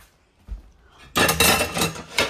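Dishes being scrubbed and set down after a home meal, with a short knock followed by a loud burst of clattering and rubbing kitchenware, close and without talk.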